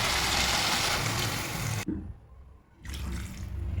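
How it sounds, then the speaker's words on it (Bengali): Water pours into a cooking pot of rohu fish, cauliflower and potato curry with a loud, rushing splash that pauses for about a second, then resumes. "এরপর জল দিয়ে দেবো।"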